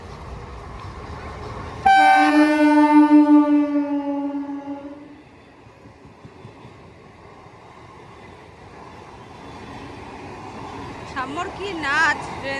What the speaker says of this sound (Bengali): আমাদের ট্রেন ঢুকছে ওই দিক থেকে ট্রেন ঢুকছে